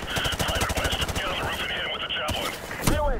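Rapid bursts of automatic gunfire and explosions crackle during a Modern Warfare Remastered campaign firefight, loud and dense, with a player's voice calling out over the chaos.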